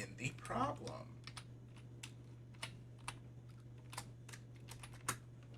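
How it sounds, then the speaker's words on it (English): Equations are typed into a calculator in a quiet room, making a steady patter of soft, distinct key presses with irregular gaps, over a low constant electrical hum. "I'm going to go ahead and type in my equations exactly as they appear in the problem."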